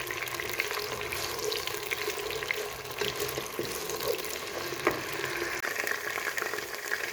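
Potatoes frying in a pan for a mixed vegetable sabzi, a quiet, steady sizzle with soft crackles and occasional stirring clicks.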